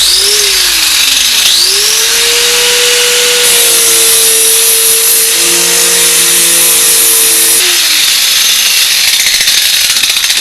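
A sander fitted with an 80-grit flap disc works on a car body panel, giving a loud, steady whine that shifts pitch as the load changes, with a brief higher surge in the middle before it winds down.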